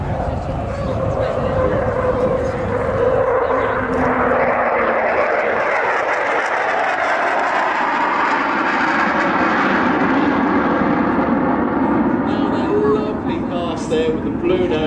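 An English Electric Canberra jet making a display pass, a loud broad engine roar that swells and sweeps past, then recedes, with a commentator speaking over the noise throughout.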